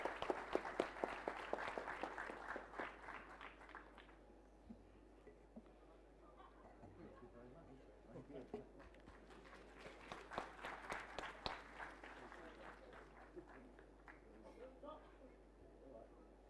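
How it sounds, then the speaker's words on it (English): A meeting audience applauds two guests being honoured. The clapping is bursty and moderately loud, fades to a quieter stretch with voices in the middle, then swells again before thinning out near the end. "Can we have a round of applause for Professor Neil and Chef John Wood, please?"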